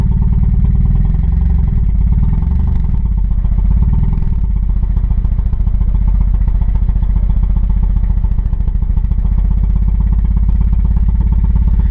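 A Chevrolet Chevette engine runs loud and close with a rough, clattery idle, and the revs rise slightly as it is put in gear with a little gas.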